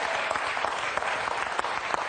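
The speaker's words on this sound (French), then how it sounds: "applaudissements quand même pour Michel." Studio audience applause on a French television quiz show, a brisk, even crowd clapping with a few sharper individual claps standing out, steady and close throughout.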